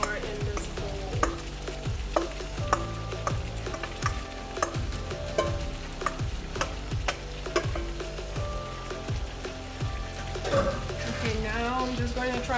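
Pigeon peas and carrots being stirred together in a bowl, a steady run of soft scraping and clinking strokes close by, with some background sizzling and faint voices.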